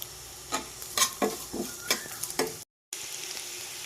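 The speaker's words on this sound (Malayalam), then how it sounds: "സവോളയൊക്കെ ഒന്ന് വഴഞ്ഞു വന്നപ്പോഴേക്ക് നമുക്കതിലേക്ക് ഒരു മീഡിയം സൈസ് ക്യാരറ്റ് ചേർത്ത് കൊടുക്കാം" A spatula scrapes rhythmically through onion and carrot sautéing in a pan for rava upma, with about half a dozen close strokes over a steady sizzle and a brief silent gap near the end.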